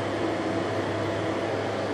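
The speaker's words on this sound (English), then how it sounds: "That's my dryer." A clothes dryer hums and rumbles steadily nearby, a constant mechanical drone with no change.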